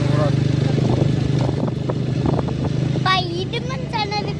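A motorcycle engine drones steadily up close while riding toward Othimalai temple, with a person talking over it in Tamil.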